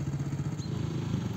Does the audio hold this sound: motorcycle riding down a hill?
yes